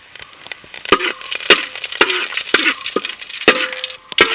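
Mustard seeds, shallots and curry leaves frying in hot oil for a mutton curry, a steady loud sizzle punctuated by sharp popping crackles at irregular intervals, close up.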